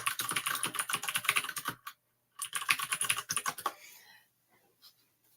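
Rapid typing on a computer keyboard, close and crisp clicking in two busy bursts separated by a short silence, trailing off into a few scattered keystrokes.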